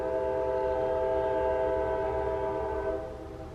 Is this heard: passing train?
yes